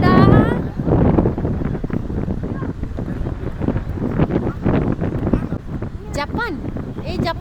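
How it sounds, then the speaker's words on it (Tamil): Strong wind gusts buffet the microphone at a beach, a heavy continuous roar under steady chatter from several people talking nearby. "செம்ம காற்றடிக்குது."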